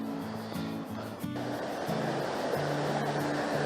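A woodland waterfall and stream pour in a steady, close rush of broadband water noise, with a few faint tonal sounds passing briefly above it.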